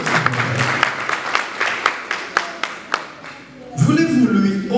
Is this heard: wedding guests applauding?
yes